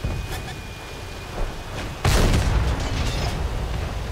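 A tank cannon shot booms in the console game World of Tanks, a sudden heavy blast that rolls into rumbling battle noise over a steady engine drone.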